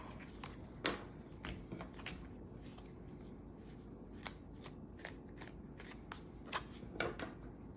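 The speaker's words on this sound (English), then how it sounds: "Just want to give them a good shuffle here." Tarot cards are shuffled in quick riffling bursts, a series of crisp snaps and flutters close by, with short quiet gaps between.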